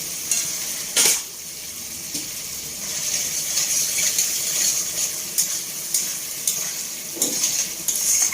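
Potato and pointed gourd fry in a pan with masala, a steady close sizzle broken by a few clinking stirs of a utensil against the pan.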